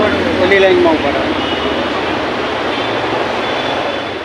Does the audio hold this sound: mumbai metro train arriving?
yes